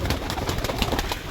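Pigeons in a Lahore loft give soft, throaty coos close by, several overlapping burbling calls over a short moment, fairly loud against a little background noise.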